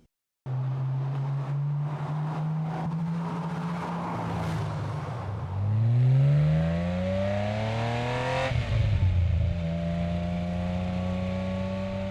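A 1989 Porsche 911 Classic GT runs up through the gears, its engine droning then revving hard with rising and falling pitch and a sharp shift around the midpoint, loud and close with no talking.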